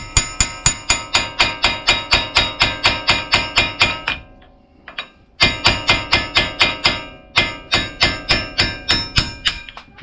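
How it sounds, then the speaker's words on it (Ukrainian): Rapid, evenly spaced metallic hammer blows on a drift punch, knocking out a front wheel hub stud on a Ford F-150, ring out in bursts, a brief pause between runs, loud and close with no speech. "Взяв виколотку, молоток, тепер можна вибити його."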